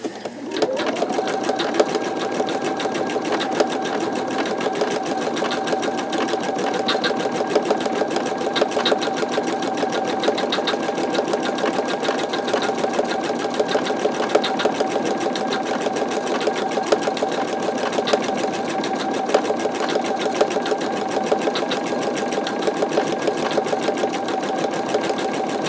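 An embroidery machine stitches a skull design with a steady, unbroken mechanical whir and fast needle rhythm, close and constant throughout, with no talking.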